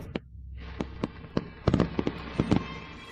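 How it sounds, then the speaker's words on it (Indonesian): Fireworks going off on a rooftop birthday celebration: a string of sharp, loud cracks and bangs, some in quick doubles, spaced irregularly over a few seconds with a faint hiss between. "Siapa yang main kembang api?"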